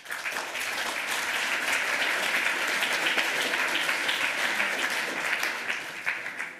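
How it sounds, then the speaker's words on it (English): A hall audience at a hacker conference talk on reverse-engineering a Qualcomm baseband applauding the speaker, steady dense clapping that holds level before tapering into a few scattered claps at the end. "So please give a round of applause to Guillaume."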